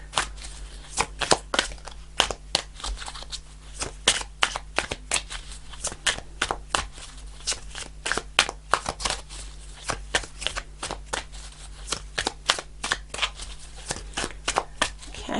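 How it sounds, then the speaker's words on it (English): Rapid, continuous riffling and snapping of a deck of tarot cards being shuffled, close up, with sharp crisp bursts repeating steadily for the whole stretch. "Okay, I'll do a couple more shuffles."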